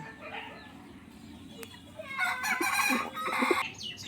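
A hen that has just laid an egg clucks and cackles nearby, a burst of repeated squawking calls building in the second half after quieter ambient sounds.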